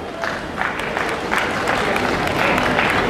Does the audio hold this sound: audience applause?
yes